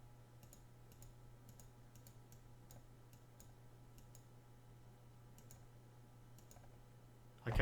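Quiet, sparse mouse button clicks at irregular intervals over a steady low electrical hum while a Python program runs, with no talking.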